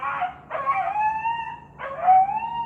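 Dogs howl in two long, wavering, whining cries with a short gap between them, heard at a moderate distance.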